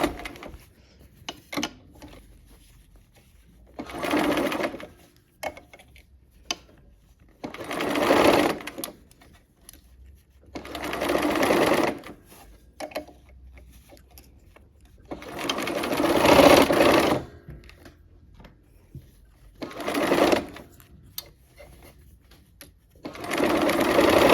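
A sewing machine stitches fabric in short bursts of fast mechanical whirring separated by quiet pauses, each run lasting a few seconds.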